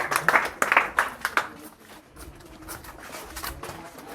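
A group claps hands in a quick burst of sharp, scattered claps lasting about a second and a half, then fades into quieter background noise.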